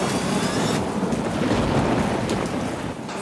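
Flooding rivers in Himachal during the monsoon roar with a loud, continuous rush of turbulent water mixed with wind buffeting, sustained without pause and no talking.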